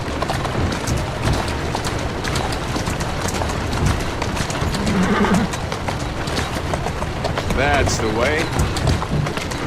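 Horse hoofbeats clip-clopping at speed in Assassin's Creed Syndicate, with a whinny and a voice speaking over busy background game sound.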